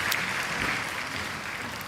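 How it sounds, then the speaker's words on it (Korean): Congregation applause during a Sunday church service, a steady wash of clapping across the whole moment, fairly even and moderately loud with no talk over it. "우리 다시 한번 큰 박수로 격려합시다."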